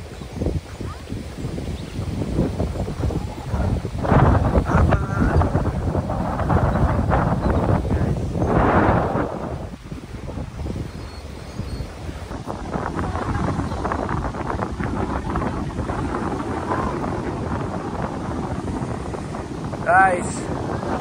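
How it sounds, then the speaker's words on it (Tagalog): Strong waves roll in at Sandpiper Beach in St. Laurent, Manitoba, a rough, continuous rumble of surf heavily buffeted by gusting wind across the microphone, swelling and easing in uneven surges. "Malakas ang alon."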